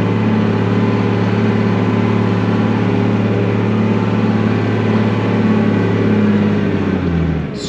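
A 4WD vehicle climbs a desert track in third gear, its engine held at steady high revs in a loud, continuous drone that fades slightly at the very end, with no talk.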